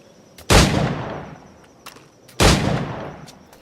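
Two loud, booming gunshots ring out from a firearm in Assassin's Creed 4, each a sharp blast with a long decaying tail, spaced about two seconds apart, with no talk.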